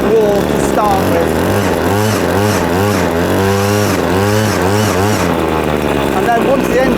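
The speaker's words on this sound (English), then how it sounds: "You can rev the engine a little bit just to get it warm to start with." A small two-stroke hedge cutter engine, model LRH26C, revs up and down repeatedly while warming up, loud and close, its pitch rising and falling with each throttle blip.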